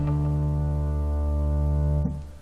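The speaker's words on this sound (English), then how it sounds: "it's an organ with a strong attack you can use as a bass." A single long, steady low note from an Omnisphere organ synth used as bass, holding evenly for about two seconds before being cut off, with no other sounds.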